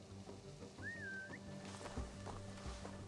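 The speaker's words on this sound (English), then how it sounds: "Now to whistle and hope they trust me." A single short whistle with a wavering, rising tone in Assassin's Creed Valhalla, heard faintly over soft ambient game noise and footsteps.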